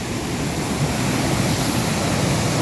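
Water from an overflowing lake roars out through its spillway after heavy rain in Kodaikanal, a loud, continuous, surf-like rush that stays steady throughout with no voices.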